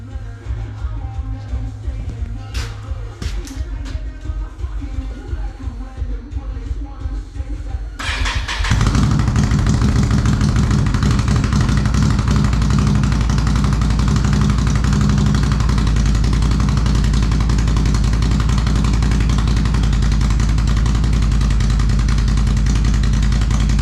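A Can-Am Renegade 1000 XMR ATV fitted with an RJWC dual exhaust starts up after some cranking, then settles into a loud, deep, steady idle close by that rumbles on continuously.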